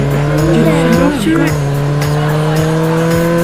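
A motorbike in the video game Sakura School Simulator skids with a loud, sustained engine drone and tire squeal, its steady tonal whine dipping briefly in pitch midway, close and continuous for a few seconds.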